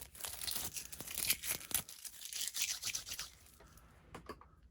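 Paper being peeled away and ripping beside a scrapbook picture: a run of close, crisp tearing and crinkling bursts, then a quieter pause and a few last small rips near the end.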